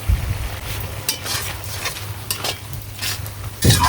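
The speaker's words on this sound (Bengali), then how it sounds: "নেড়ে চেড়ে সুন্দর করে মাখো মাখো করে আমি নামিয়ে নেব।" A spoon stirs banana flower curry with coconut milk in a pan, with a soft sizzle under repeated scraping and clinking strokes, close and steady.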